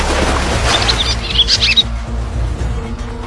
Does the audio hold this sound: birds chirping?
yes